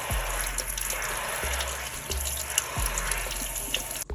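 King oyster mushrooms are rinsed under a running kitchen tap, a steady loud gush of water with a few brief surges and splashes as they are turned in the stream.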